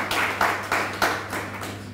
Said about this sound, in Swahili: Makofi mengine pia kwake.